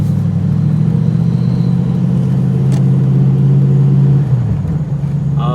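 A TVR Chimaera's engine drones steadily and loudly from inside the car while driving, a strong low rumble holding constant before dipping briefly near the end.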